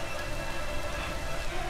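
Steady rain falls in the video game Detroit, a dense even hiss of drops on surfaces, loud and close with no break.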